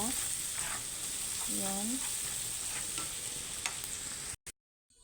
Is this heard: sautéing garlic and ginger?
yes